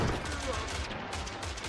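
Cannons fire in the video game Totally Accurate Battle Simulator, Wild West faction, a dense burst of booming shots and rumbling blasts packed tightly together, loud and close throughout.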